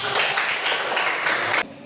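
Students in a classroom applaud after a group presentation, a brisk, close burst of many hands clapping that stops abruptly.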